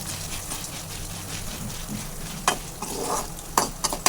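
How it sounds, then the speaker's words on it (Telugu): Urad dal dry-roasting in a pan over a low flame, a steady soft rustling sizzle with sharper scraping stirs near the end, close and moderately loud with no talking. "మినపప్పు వేసుకొని సిమ్లో పెట్టుకొని లైట్గా దోరగా వేయించుకుందాం"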